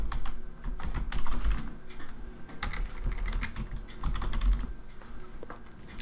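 Rapid typing on a computer keyboard while entering a place name into a GST enrollment form, a steady run of close, crisp key clicks with brief pauses and no talking.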